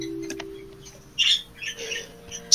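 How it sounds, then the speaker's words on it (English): Birds squawking and chirping in the Tanglewood video game, a few short sharp calls popping up over a steady low hum of game music, fairly close and moderately loud with quiet gaps between. "Also, return of the birds."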